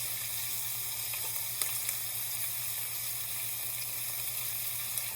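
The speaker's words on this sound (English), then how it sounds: "And so we will sear all sides." Pork shank searing in oil in a tall pot, a continuous dense sizzle with a low steady hum beneath and a few faint pops, close and even throughout.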